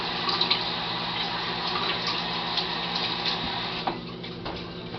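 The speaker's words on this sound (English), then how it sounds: "Wash a little bit off of my hands." Water from a tap runs steadily over hands being washed after applying face make-up, a continuous broadband splash with small clicks and shifts as the hands move under the stream, heard alone without talk.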